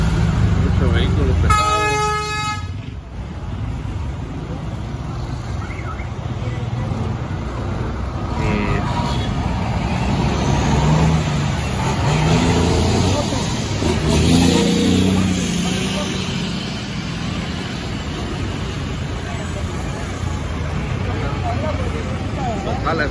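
Heavy traffic crawls through Cocales, engines rumbling and revving, with a clear horn toot near the start and people talking loudly over the street noise.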